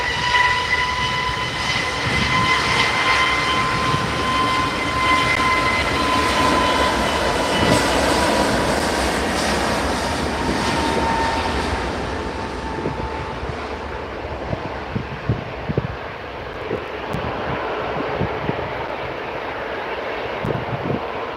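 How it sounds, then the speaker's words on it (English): An EasyJet Airbus A320neo departs runway 23L at Manchester Airport with a loud, sustained jet roar and whine that fades gradually. Wind buffets the microphone, with scattered clicks near the end. "So this is EasyJet A320neo."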